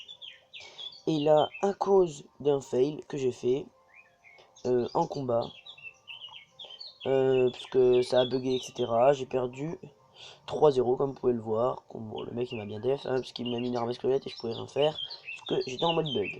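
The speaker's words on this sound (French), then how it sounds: "excusez-moi pour les oiseaux, parce qu'en fait, je suis dans ma cabane dans les arbres" Birds chirp outside a treehouse in short, bright tweets that carry faintly throughout, beneath someone talking continuously.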